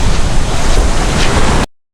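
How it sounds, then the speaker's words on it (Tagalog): Ocean waves break at sea off Bantayan Island as a loud, steady wash of surf mixed with wind buffeting the microphone, cutting off abruptly. "Ganyan kataas yung alon."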